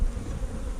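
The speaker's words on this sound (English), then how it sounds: "When you look at all the bees that are on that post" Honey bees swarm around a crowded hive at a farm, where a colony is being split. Their buzzing forms a dense, steady drone, close and fairly loud, with no voices over it.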